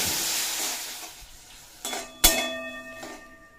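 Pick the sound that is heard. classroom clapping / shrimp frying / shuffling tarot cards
shrimp frying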